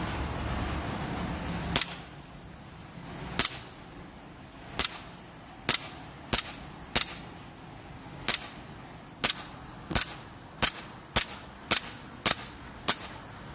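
Airsoft gun fired outdoors at targets on the ground, giving about fifteen sharp, close snapping shots spaced irregularly and then coming faster toward the end, with quiet gaps between them.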